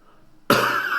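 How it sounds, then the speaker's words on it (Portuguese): A single abrupt, close cough from a man with sinusitis breaks a quiet pause halfway through and stays loud and raspy to the end. "Peço perdão aí pela tosse do meio da palavra"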